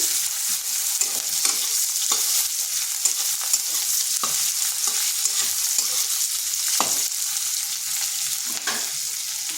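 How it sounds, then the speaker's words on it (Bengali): Long-cut onion slices frying in a pan, a steady bright sizzle that holds near and even throughout, with soft scrapes and taps of stirring scattered across it. "পেঁয়াজটাকে একটু ভেজে নিচ্ছি"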